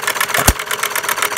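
A 1/3 scale gas-powered Breisch Associated Hired Man hit-and-miss engine runs steadily up close, a dense rhythmic chugging with one sharper firing thump partway through.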